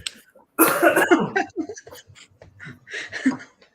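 A single person coughs close to the mic, a rough burst followed by a few breathy, chuckling sounds and short vocal noises.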